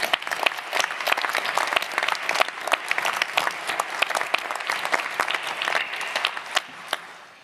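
Audience applause at a new lawyer induction ceremony: dense, steady clapping from a large crowd that carries on for several seconds before tapering off at the end.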